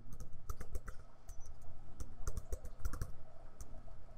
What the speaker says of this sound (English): No, this keyboard is not my best friend.